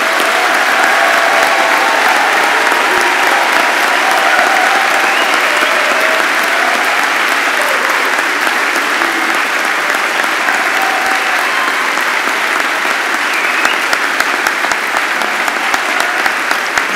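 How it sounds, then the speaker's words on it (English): A ceremony crowd gives a long, sustained round of applause for the 2023 Patrick Leahy Honors College Scholars at the University of Vermont, with thick, even clapping holding strong for over fifteen seconds amid faint crowd noise. "let us mark the close of this ceremony with one more round of applause for the Patrick Leahy Honors College Scholars of 2023"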